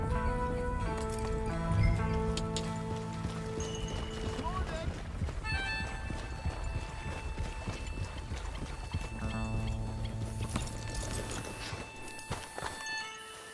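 A horse galloping in Red Dead Redemption, rhythmic hoofbeats over a layered game soundtrack with music and ambient effects, voices speaking at times.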